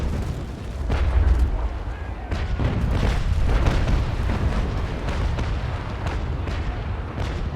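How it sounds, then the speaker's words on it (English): Shore batteries firing cannons in the naval battle game Naval Action, a continuous rumble of distant booming gunfire rolling on and off, loud and low. "those shore batteries are still firing away"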